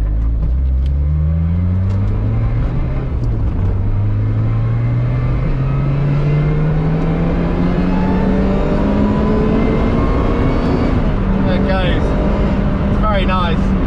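A Lotus Exige S2 engine accelerating hard in first gear from inside the car, a loud rising drone climbing steadily in pitch over many seconds, with voices talking over it near the end.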